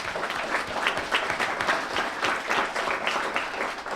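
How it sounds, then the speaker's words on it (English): Steady, dense applause from a school board meeting audience honoring a school custodian, loud and continuous for several seconds with no talking over it. "So let's give her a round of applause."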